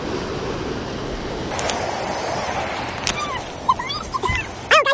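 Floodwater pours loudly over a swollen waterfall during a flood, a steady broadband roar throughout, with a few brief sharp knocks and chirps near the end.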